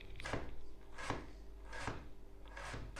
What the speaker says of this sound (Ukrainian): Тепер нарізаємо морку. Теж соломкою.